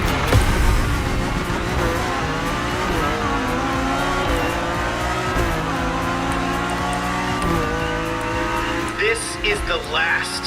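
A BMW M4 in the racing game The Crew Motorfest drives hard, its engine droning and shifting pitch through gears, with tire squeal near the end, under someone talking.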